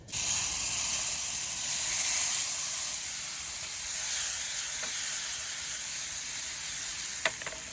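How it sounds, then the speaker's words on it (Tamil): Prawns sizzle in a pan with black pepper for a butter roast, a steady hiss that is loudest at the start and eases slightly, with a couple of faint clinks near the end. "நம்ம ஃப்ரை பண்ணி எடுத்து வச்சு அந்த ராலை சேர்த்துருவோம்"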